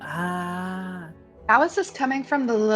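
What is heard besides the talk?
No everyday noises stand out.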